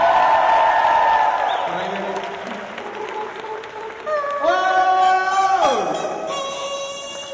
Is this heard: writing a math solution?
no